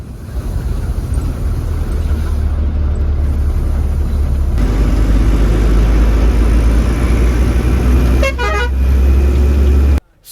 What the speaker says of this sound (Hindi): फिर ठीक 11:30 बजे के करीब हमारी गाड़ी भी यहाँ महेंद्रनगर से अपने सफ़र के लिए आगे रवाना हो गई।